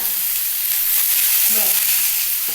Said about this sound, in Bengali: নুন হলুদ দিয়ে দিয়েছি এটা ভাজা হয়ে গেছে